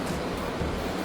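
The Alaknanda river at Badrinath in the Uttarakhand mountains flows with a steady, loud, broadband rushing hiss of water, heard close by and continuous with no voices.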